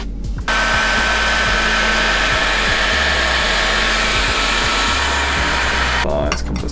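A heat gun blows continuously while warming the fork of a KTM EXC 450 motorcycle during fork seal replacement: a loud, steady airy whir with an electric motor hum, briefly switched on and off at both ends.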